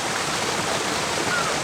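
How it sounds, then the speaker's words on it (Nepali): Water pours steadily from a pipe at a spring source in Mizumoto Park, Japan, a constant soft rushing and hissing like a small stream, fairly quiet and uninterrupted with no voices. "अहिले पाइपबाट ल्याएको रहेछ है पानी"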